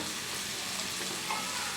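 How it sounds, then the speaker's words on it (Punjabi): Tadka tempering sizzling in a pan while cooking palak paneer, a brief, soft, even frying hiss with slight crackle, no voices. "ਅਬ ਤੜਕਾ ਆਪਣਾ ਰੈਡੀ ਹੋ ਰਿਹਾ ਹੈ"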